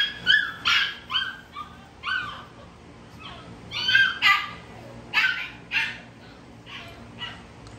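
A big female dog barks in loud, close, repeated bursts, with whimpering mixed between the barks and no clear speech.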